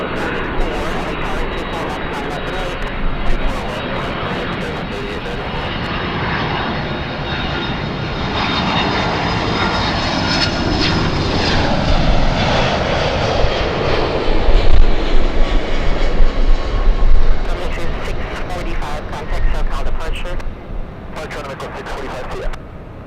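A Boeing 767 jet takes off at Los Angeles airport, a loud engine roar swelling and sustained over many seconds before easing, with a voice talking and radio chatter underneath.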